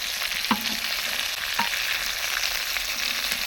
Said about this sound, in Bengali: হালকা করে ভেজে নিচ্ছি, যাতে খালি গন্ধটা দূর হওয়ার জন্য